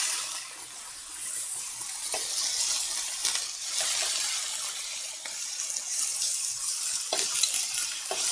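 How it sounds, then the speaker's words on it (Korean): Beef ribs sizzle steadily on a home grill, a continuous bright crackling hiss with occasional small pops and clinks, close and fairly quiet, with no talking. "지글지글 굽는 소리 들립니까?"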